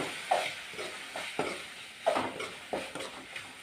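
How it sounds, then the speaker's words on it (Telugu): Ground garam masala and tomato fry gently in oil, a soft, quiet sizzle under intermittent scraping strokes of a spoon stirring the pan. "బాగా ఇది వాసన రాకుండా ఆయిల్లో ఫ్రై చేసేవాలి"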